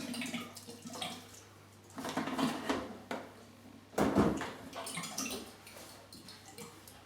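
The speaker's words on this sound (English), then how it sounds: "So let's just get all this clean and rinsed out." Tap water splashes and runs while wine-making kit equipment is rinsed, coming in bursts with clatter of plastic parts between pauses, close and moderately loud, no speech.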